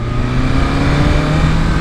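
A BMW M3 car and a BMW S1000RR motorcycle race on Lindora Mountain Road, a steady loud engine drone with low harmonic hum running continuously throughout, no speech.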